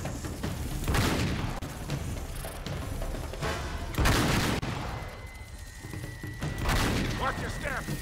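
Gunfire in Uncharted 3: Drake's Deception, with repeated bursts and heavy booms of a firefight, loud and dense throughout, mixed with game voices talking.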